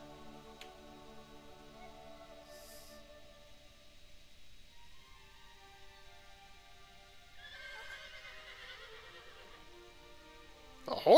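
A horse whinnies in a long, quavering neigh in the video game Shadow of the Colossus, with faint clip-clopping hooves and a few soft game sound effects, quiet until a louder burst at the end.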